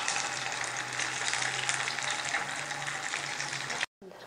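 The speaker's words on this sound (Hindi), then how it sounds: "बाकी के बचे हुए फ्राइंग पैन में डाल दें" Kebabs frying in oil in a frying pan, a steady loud close sizzle that runs without pause and cuts off abruptly near the end.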